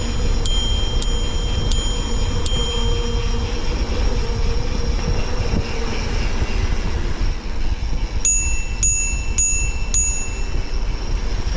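A bicycle bell rings out in two clusters, first four quick dings, then after a pause four more bright rings near the end, over a steady rumbling background of passing traffic.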